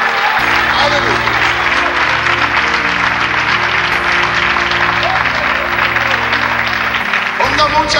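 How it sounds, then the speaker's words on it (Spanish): Applause from a church audience for the King rolls on steadily and loudly, a dense wash of hands over sustained low musical tones, without break. "Denle un aplauso al Rey con todo su corazón"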